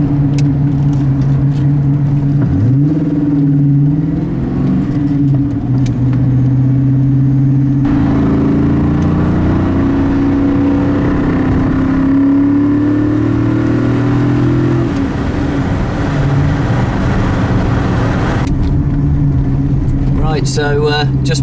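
Car rolling slowly at about 20 mph with a steady low engine drone that dips and rises as it shifts into fourth gear; someone talks over the engine noise throughout.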